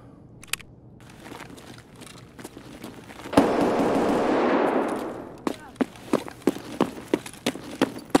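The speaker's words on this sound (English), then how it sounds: "Shotgun almost got me." Gunfire in the video game Escape from Tarkov, including a Saiga shotgun and an FAL rifle: a dense burst of sustained firing around the middle, followed by a string of sharp separate shots, with no talk.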